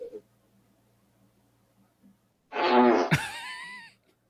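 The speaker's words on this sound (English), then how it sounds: "Y'all gonna hear my fart." A fart played back from a video clip, a loud buzzing, sputtering blast lasting about a second and a half that ends in a squeaky rising tail, after a quiet pause.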